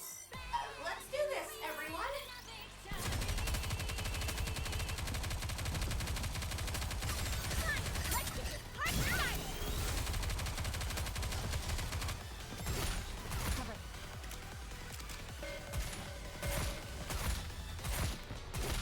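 Shotgun fire in Goddess of Victory from Drake's forward-pumping shotgun, mixed with rapid gunfire, loud and continuous through a battle scene, with sharp repeated blasts and mechanical clacks as a voice speaks intermittently.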